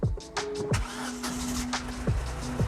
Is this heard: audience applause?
no